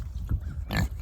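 Pigs grunting close by in a farmyard pen, a few low rough snorts and grunts in quick succession.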